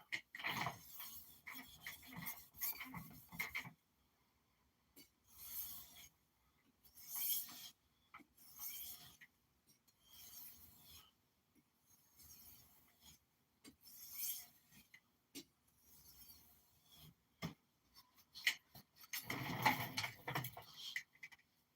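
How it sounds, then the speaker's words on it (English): A knife is drawn across a two-sided 325/1200 grit diamond sharpening stone, giving repeated raspy scraping strokes in bursts separated by short pauses. The strokes are close and fairly quiet, with a louder flurry near the end. "So Joey, I'm using the Sharpening diamond stone here, and it's got a 325 on one side and 1200 on the other side, which is what I'm doing right now."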